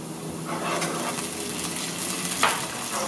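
Chopped onions frying in a pan for a Moroccan oven-baked brain tagine, a steady close hiss of sizzling with light stirring scrapes and one brief sharper crackle near the end.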